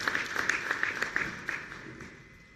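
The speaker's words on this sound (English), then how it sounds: "So give me a big round of applause for Mr. Edward Muthuwe" Brief applause from the audience at a national government launch ceremony, scattered claps at moderate level that quickly die away.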